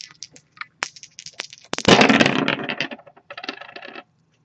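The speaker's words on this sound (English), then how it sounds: "we're actually going to start the reading off by rolling those astrology dice we have in front of us" Dice clatter onto a hard surface at the start of an astrology reading: a few light taps, then a louder rolling rattle that tumbles briefly, a short second burst, and silence. No talking.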